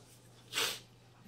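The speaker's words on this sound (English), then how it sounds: "Oh, I'm going to sneeze again." A single sharp human sneeze bursts out mid-clip, close and loud against a quiet background with faint hum.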